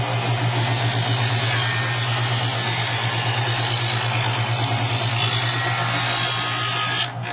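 A Chef'sChoice 120 electric knife sharpener whirs steadily with a low motor hum as a knife blade is drawn through its diamond hone disc, a constant buzzing grind that cuts off abruptly near the end.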